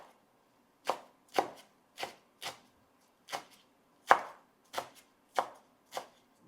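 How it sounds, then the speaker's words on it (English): Basil leaves being chopped on a cutting board for marinara sauce, ten sharp, close knife strikes at an uneven rhythm with quiet gaps between them. "I'm chopping the basil for our marinara sauce."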